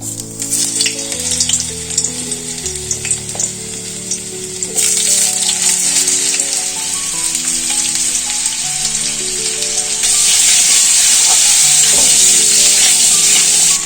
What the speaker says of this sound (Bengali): এই আলুগুলো ভেজে নেব নুন হলুদ দিয়ে।